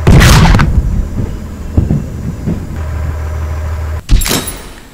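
Tank cannon firing in the Henry Stickmin game: a loud booming blast opens the sequence, followed by rumbling and clanks, a steady low engine hum, then a second sharp boom near the end.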